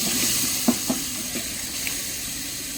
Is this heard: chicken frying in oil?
yes